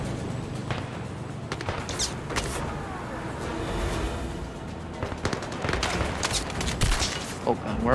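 Gunfire in the Zero Caliber shooter game, a series of sharp shots and bursts spread across the clip over a steady background din, with some talk mixed in.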